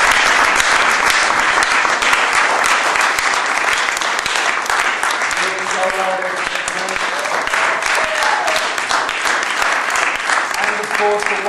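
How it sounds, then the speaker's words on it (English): A large audience applauds loudly and continuously, dense clapping filling the room, with cheering or voices rising through it in the second half. "Round of applause."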